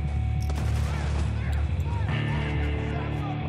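Steady gunfire and rattling bursts fill a battle scene in the Spec Ops: The Line video game, loud throughout, with game voices talking over the shooting.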